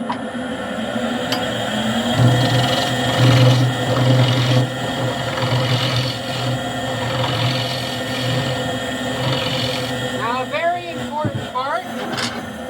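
A wood lathe turns a round-bottom bowl while its face is flattened, giving a steady motor hum with rough cutting noise. Someone talks over it throughout.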